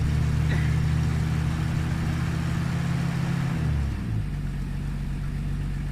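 A Ford Mustang Foxbody idles after a hard start, its engine holding a steady low hum that dips and settles into a lower, even idle partway through, close and loud with no talking.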